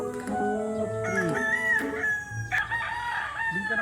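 Several roosters at a Bakas gamefarm crowing in overlapping, drawn-out calls, some near and loud and others farther off, with clucking and outdoor bustle around them.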